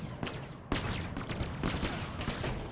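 Rapid gunfire from the video game Halo Infinite, with dense overlapping shots and bursts that are close and loud, plus a sharp onset partway through, heard without talking.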